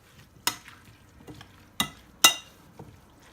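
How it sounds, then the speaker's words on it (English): Fish ceviche stirred in a bowl: a few sharp, separate scraping clicks of a utensil against the bowl, spaced about a second apart, close and quiet with no talk. "And I'm going to stir it again."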